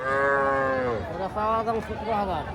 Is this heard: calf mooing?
yes